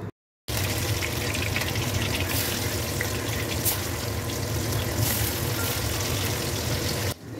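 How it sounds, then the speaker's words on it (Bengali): Pieces of a large sea fish fry in hot oil in a pan, giving a steady, loud, close sizzle that holds evenly for several seconds after a brief silence. No one talks. "সব মাছগুলো ভেজে নেব"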